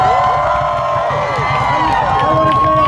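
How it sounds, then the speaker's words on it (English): Crowd at a student protest at Queen's Park cheering and applauding, a dense, steady wash of clapping and shouts filling the space from start to finish. "Can I get a round of applause for these dudes on the drum?"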